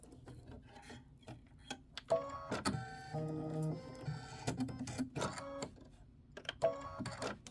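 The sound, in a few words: Kimberbell embroidery machine stitching design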